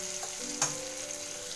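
Potatoes and onions frying in a pan for a shrimp and banana-stem (thor) curry, a steady soft sizzle with one brief stirring scrape partway through, close and alone.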